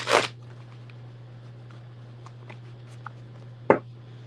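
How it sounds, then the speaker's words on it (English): A deck of tarot cards gets a quick shuffle: a short riffle burst at the start, then quiet handling with faint taps and a second sharp snap near the end, over a steady low hum. "Do a quick shuffle"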